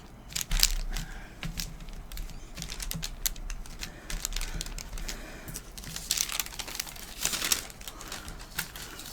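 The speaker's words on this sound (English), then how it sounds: "cover it with the wax paper and really press down." Wax paper pressed down by hand over a sticky bird-feeder mix in a cookie cutter, giving soft, quick crinkles and crackles in irregular bursts, close and fairly quiet, with no talking.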